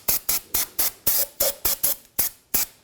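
Brake cleaner sprays onto a Chevrolet Cruze wheel hub in about eleven short, close hissing bursts, each cut off sharply, in a quick, fairly even rhythm with no talk.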